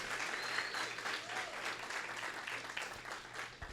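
A church congregation at a Sunday service claps together, a full, fairly quiet spread of many hands that continues evenly throughout, with a low steady hum underneath.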